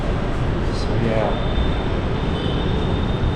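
Steady rumble of a Jaipur Metro train in motion, heard from inside the carriage, a continuous broadband roar with faint air-conditioning hiss and no clear breaks.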